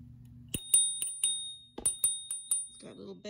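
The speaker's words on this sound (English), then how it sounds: "It's got a little bell over here." Small handlebar bell on a HiBoy ECOM14 electric scooter, rung in a quick series of bright metallic dings, close and fairly loud over a low steady hum, with a brief voice at the end.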